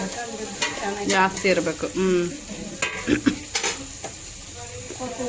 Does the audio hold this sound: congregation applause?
no